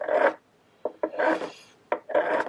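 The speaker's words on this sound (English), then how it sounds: "Now I'm rubbing flat to take down the fret." Steel file rasping a fret down on an Epiphone electric mandolin, close and loud: several separate scraping strokes with short pauses and a couple of sharp clicks between them, no talking.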